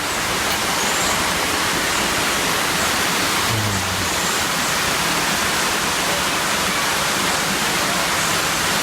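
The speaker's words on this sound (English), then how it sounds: "The stream splits, goes around both sides. A little waterfall here." A forest stream splitting around rocks into a small waterfall produces a loud, continuous broadband rush of falling water, close by and unbroken, with no voices.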